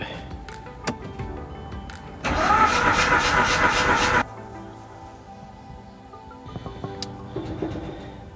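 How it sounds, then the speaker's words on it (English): A Mazda RX-8 rotary engine cranks over for about two seconds on the starter during a compression test, a steady rapid churning between quieter clicks and handling noises. "Gas pedal and the clutch to do the deflood procedure, and then crank it."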